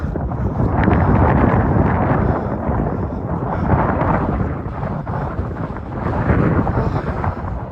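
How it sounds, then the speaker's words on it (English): Strong wind roars and buffets against the microphone on a street in Toronto's Junction Triangle and Dundas West area, in a continuous low rumble, rising and falling in gusts. No voices are heard. "It's windy now."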